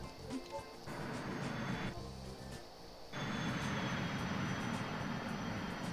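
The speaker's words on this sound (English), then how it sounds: "Hit the reverse thrust." Boeing 747 jet engines roaring on reverse thrust in a flight game, a steady broadband rush that drops back briefly and then surges louder and holds to the end.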